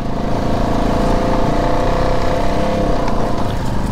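A vehicle fitted with wheel spacers drives through mud, its engine a steady, loud, close roar that runs unbroken throughout with no talking.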